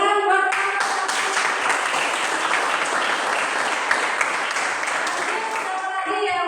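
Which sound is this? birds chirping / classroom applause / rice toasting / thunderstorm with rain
classroom applause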